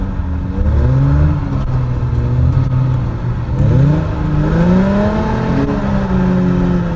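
A car engine revs loudly on ice while drifting, throttle rising and falling in repeated swells with whining pitch sweeps, close and continuous, no voices.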